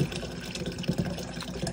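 Water runs into a big 30 ounce cup, a steady splashing pour with small fluctuations throughout, close by and with no talking.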